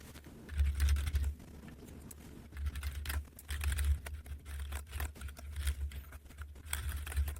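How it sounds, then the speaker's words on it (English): Quiet, steady typing on a computer keyboard while coding a web page, with soft rapid key clicks in uneven bursts over a low hum and no talking. "I'll speed this up so you don't have to sit through me typing everything out."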